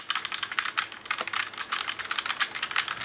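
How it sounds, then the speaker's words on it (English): Fast, continuous typing on a Razer BlackWidow Lite TKL keyboard, a dense clatter of key clicks close up, steady and fairly loud with no voices. "that's the typing experience on the Razer keyboard"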